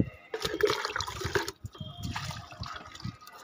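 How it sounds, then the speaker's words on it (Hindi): Water poured from a bucket onto a potted bean plant in a home garden, a steady splashing trickle running for about a second and a half, then softer dribbling as the soil soaks it up, close by. "इधर गाइस ये सेम का जो पौधा है इसमें भी डाल देते हैं।"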